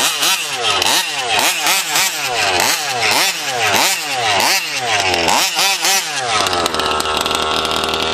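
A gas-powered RC car engine revs loudly and unevenly just after starting, its two-stroke whine rising and falling in about ten quick throttle blips before settling into a steady buzzing run.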